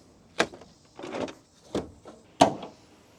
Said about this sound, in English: we're going to open the hood